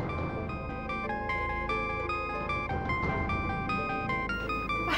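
A phone ringtone plays loudly as a steady melodic tone pattern repeating through the whole stretch, with no voices over it.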